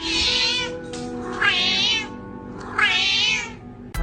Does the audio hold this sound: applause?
no